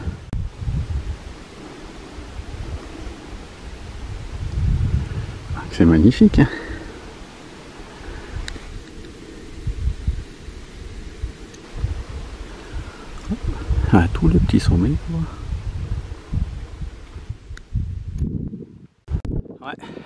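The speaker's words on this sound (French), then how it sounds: "il y a du vent." Gusty wind rushes and buffets outdoors in the mountains near the Italian border, rising and falling in waves. People speak briefly over it.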